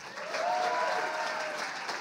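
A crowd at the Lion d'Or cabaret venue claps for a performer's show, a brief, even wash of applause at moderate volume with a faint tone running underneath.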